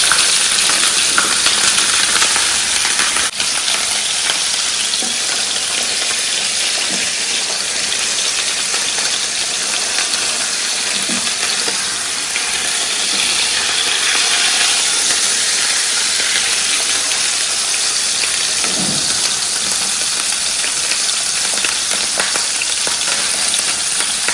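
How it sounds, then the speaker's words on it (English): Tilapia fillets sizzle steadily on a hot grill in a continuous close hiss, with a soft thump as the fish is flipped and no talking. "Let's go ahead and flip over our tilapia."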